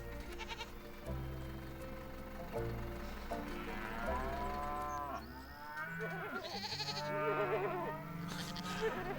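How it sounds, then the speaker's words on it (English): Video game sound of several cows mooing repeatedly in long, low calls, with a few higher bleating cries overlapping near the end. "The cows are going crazy."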